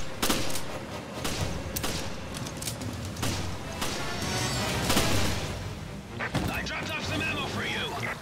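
Rapid gunfire and heavy thuds from the Resident Evil video game, dense bursts of shots and impacts across the whole stretch, partly under excited talking from a player.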